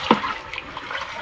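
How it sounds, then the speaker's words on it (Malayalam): Liquid orchid fertilizer mixture being stirred in a barrel, made with gliricidia leaves: a brief close watery swish and splash at the start, then faint sloshing trailing off, with no talking. "അപ്പോൾ ഇത് നമുക്കൊന്ന് ഇളക്കി കൊടുക്കാം."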